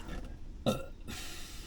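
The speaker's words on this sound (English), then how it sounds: "That was the least satisfying burp ever." A single short, throaty burp bursts out inside a car, fairly close and brief, over a low background rumble.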